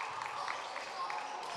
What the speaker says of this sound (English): Loud cheer from the Hill student section.